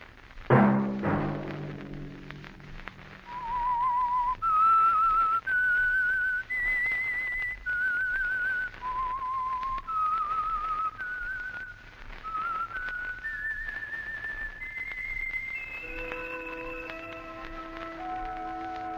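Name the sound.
whistling a tune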